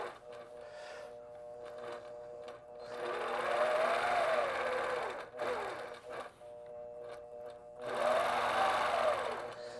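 Longarm quilting machine stitching a log-cabin pattern along rulers, with rapid mechanical needle chatter in two long bursts separated by a brief pause, close and clear.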